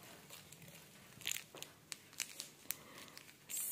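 A small plastic packet of flower-water additive, attached to a bouquet, is handled close up, giving quiet, scattered crinkles and crackles in irregular bursts.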